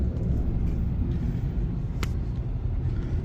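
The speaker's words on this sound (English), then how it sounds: "Look, there's a Mustang driving around." A Ford Mustang drives along a snowy two-lane road in North Mississippi, heard as a steady low vehicle rumble and road noise from inside a nearby car, with one short sharp knock partway through.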